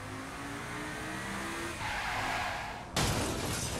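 A supercar called the Temptress in the Saints Row video game, its engine roaring loudly with tire squeal and skidding, rising in intensity and jumping to a harsher, louder burst near the end.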